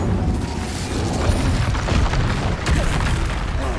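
Incendio fire spell cast in Hogwarts Legacy, a dense roaring burst of flame with booming low rumble and crackling, loud and sustained without a break for nearly four seconds.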